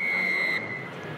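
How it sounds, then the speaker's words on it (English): Referee's whistle at a Western Force versus Panasonic Wild Knights rugby match, a single sustained blast over crowd and field noise that cuts off abruptly after about half a second. "Whistle goes, and the second half underway as Andrew Deegan kicks long."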